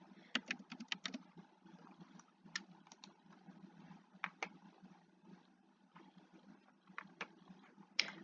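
Typing on a computer keyboard during a search, quiet close key clicks in irregular bursts and scattered single taps, with short pauses between runs of keystrokes.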